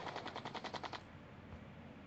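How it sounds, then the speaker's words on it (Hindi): Rapid machine gun fire from the aerial combat video game Sky Fighters, a steady stream of quick rattling shots lasting about a second, then fading into a low engine-like drone. "तो वैसे अभी हम लोग यहाँ पे इसके पीछे अच्छे अच्छे से कुछ गोलियाँ मार लेते हैं।"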